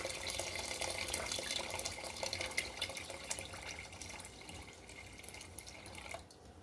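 Water pours steadily into a one-pot tomato rice with long-grain rice, a faint, continuous splashing trickle that tapers off at the end.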